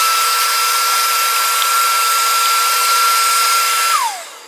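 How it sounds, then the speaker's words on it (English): A shop vacuum inside a CNC machine station sucks up cut-away foam material with a loud, steady whining roar, then winds down at the end as it is switched off. "find your vacuum in your station and vacuum out"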